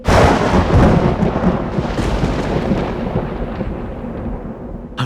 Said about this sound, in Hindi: लगता है कोई बहुत बड़ा तूफान आने वाला है।